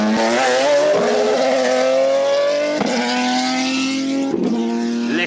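A race car on a track, filmed in a comparison with an Ariel Atom, drives hard right alongside, its engine pitch rising loudly through the gears with abrupt shifts and no voices.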